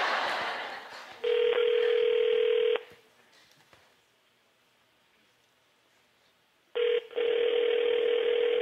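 Telephone tones sound during a call, with a steady tone of about a second and a half near the start and another long tone near the end, separated by a quiet stretch of line noise.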